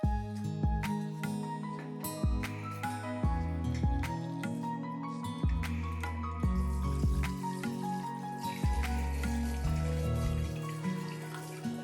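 Freshly ground coconut milk drips and trickles through a strainer, a scatter of close, irregular wet drops and small splashes over a quiet background, with no voices.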